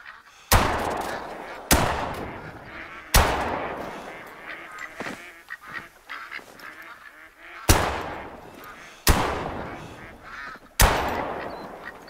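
Ducks in the hunting game theHunter: Call of the Wild give loud, sharp bursts of sound, about six of them spaced through the stretch, each fading after it strikes, with quieter faint calls between.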